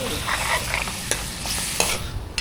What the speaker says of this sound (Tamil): புளி தண்ணி ஊற்றி தண்ணியை ஊற்றி கொஞ்சம் கொதிக்க விட்டா